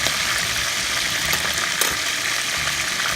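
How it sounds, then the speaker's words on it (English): Chicken pieces browning for curry sizzle and crackle steadily in a hot pan, a dense, continuous frying hiss throughout with no talk. "I want to fry it first, give it some color and brown it."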